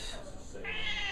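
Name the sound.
cat meowing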